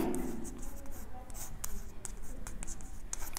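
Writing on a board: a run of quick, crisp marker or chalk strokes and taps, moderately close, over a low room hum.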